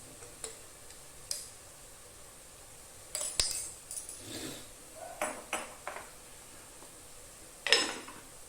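Coriander powder being stirred in a pan with a spoon, a few sparse scrapes and light metallic clinks spaced out over quiet background, no talking.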